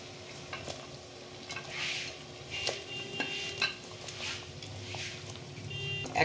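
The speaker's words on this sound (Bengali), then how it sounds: "এরপরে আমি মাছগুলো দিয়ে দিচ্ছি।" Prawns hit a hot pan of Bengali malaikari and sizzle steadily, with soft stirring scrapes and scattered clinks of a utensil; a faint tonal hum sits underneath and no one speaks.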